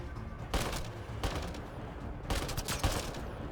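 Gunfire in the sci-fi shooter Mass Effect Andromeda: a quiet ambient bed broken by several sharp shots, one burst early, another around the middle, then a rapid cluster of cracks near the end.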